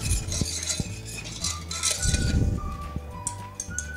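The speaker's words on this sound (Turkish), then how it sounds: "Ben bu sütü önce şöyle bir karıştırayım bir dakika." A spoon stirs warm milk in a metal pot, giving soft scraping and clinking against the sides in an irregular rhythm, close and moderately loud with no talk.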